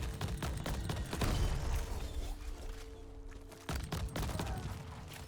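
The slug weapon in the video game Crab Champions fires rapidly, sending dense bursts of punchy shots and explosive impacts in quick succession, with a short lull before the barrage resumes, loud and close.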